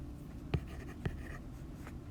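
Chalk or marker strokes on a board during a chemistry lecture: two distinct taps about half a second apart, followed by faint scratching against a quiet room, with no talking.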